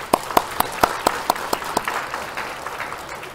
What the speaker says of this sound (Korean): 그래서 우리 하나님께 영광의 박수 올려.